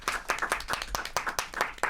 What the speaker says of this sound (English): a little round of applause for Peter James Wicks